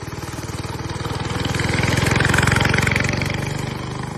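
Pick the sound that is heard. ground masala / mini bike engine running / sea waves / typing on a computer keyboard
mini bike engine running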